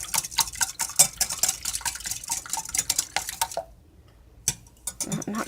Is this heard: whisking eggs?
yes